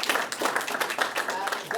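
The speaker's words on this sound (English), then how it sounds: "round of applause for yourself" An audience at an entrepreneurs' fundraising masterclass claps together, producing a dense, brief burst of applause that runs steadily through the moment.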